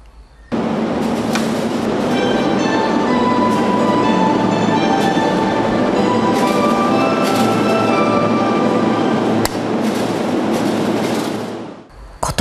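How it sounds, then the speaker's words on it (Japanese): A local commuter train bound for Tokyo pulls slowly out of a station platform, its loud, steady rumble and wheel clatter holding close by with a few sharp clicks before fading at the end. "電車がゆっくり動き出します。"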